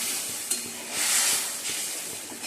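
Mustard paste drops into a hot pan and sizzles loudly and close, with a hissing surge and light stirring scrapes.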